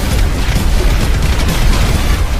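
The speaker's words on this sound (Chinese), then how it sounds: "直接按动了爆炸开关。" Cartoon explosion set off by a detonator switch: a loud, dense, sustained roaring blast with crackling bursts filling the whole moment, no voices.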